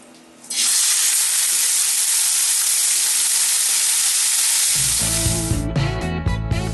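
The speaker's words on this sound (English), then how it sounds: "I've got a little bit of oil in my pan. I'm going to go ahead and I'm going to drop the steaks in." A loud, sudden burst of hissing as steaks hit hot oil in a pan for a Puerto Rican jibarito, the sear holding steady until music comes in near the end.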